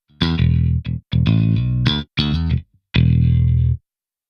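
An Ample Metal Ray 5 virtual bass modelled on a Music Man Stingray 5, played through distortion and chorus effects in short, punchy phrases with gaps of silence between notes, loud and alone.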